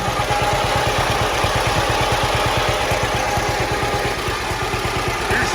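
A John Deere Model H tractor's two-cylinder engine running close and loud, a steady pulsing chug at an even idle rhythm with faint clatter, no talk.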